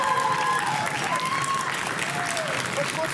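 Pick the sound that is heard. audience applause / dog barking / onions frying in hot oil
audience applause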